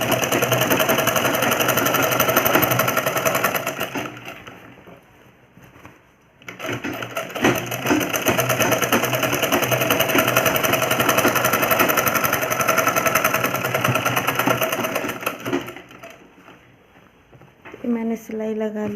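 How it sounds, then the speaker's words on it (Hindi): A sewing machine stitches an elastic waistband onto trousers in loud, close bursts of rapid whirring, pausing twice briefly before resuming, then a short bit of handling at the end. "हाथों से हल्के हल्के खींचते जाएंगे और सिलाई लगाएंगे।"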